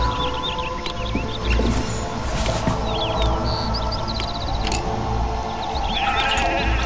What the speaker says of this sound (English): Sheeps.